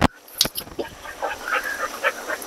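A puppy yips and whimpers in a few short, sharp bursts, with a louder bark near the start and softer whines trailing after, fairly close in an indoor home setting.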